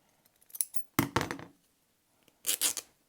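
Scissors snip paper for a junk journal in a few short, close bursts separated by quiet gaps, with no talking.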